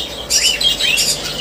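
Small birds at a bird farm chirp and squawk in short, bright bursts that come loud and close, overlapping in a busy flurry.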